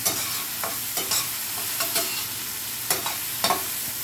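Ham fried rice with onions being stirred in a hot pan, a spatula scraping in short, irregular strokes over a steady low sizzle.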